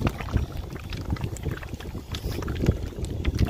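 A bottle of Bar's Leaks radiator and heater core stop leak being shaken by hand, giving a steady run of close liquid sloshing and rattling for a few seconds, with no talk over it.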